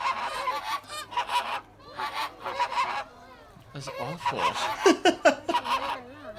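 Flamingos giving loud, nasal honking calls somewhere between a honk and a bark, repeated in irregular bursts across the clip, with a short reaction voiced at one point.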